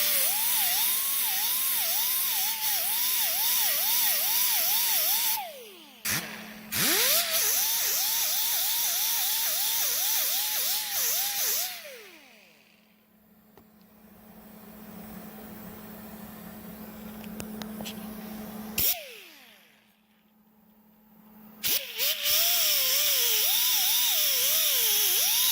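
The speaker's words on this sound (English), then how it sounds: "I'm really amazed how fast it sands this stuff down" A high-pitched power sander grinds down a MIG weld on sheet metal, a loud whining buzz with warbling pitch that cuts out briefly, winds down into quieter stretches, then spins back up, close by and without voices.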